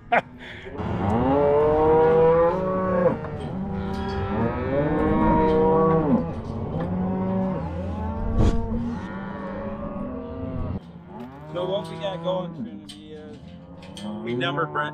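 Ranch cattle moo repeatedly, one long bellow after another, loud and near, with a brief pause before more overlapping lowing near the end.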